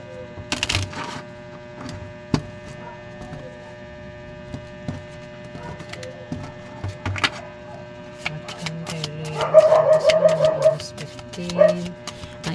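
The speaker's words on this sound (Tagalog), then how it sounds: "Ang ingay ng aso namin sumasabay." Pet dogs bark and yip in bursts of sharp calls, loud and fairly close, over a steady mains-like hum, with a cluster of rapid barks toward the end.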